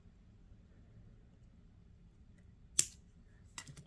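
A single crisp snip of cutters trimming excess wire on a handmade earring, followed by a couple of quick lighter clicks, close and clear over a quiet room.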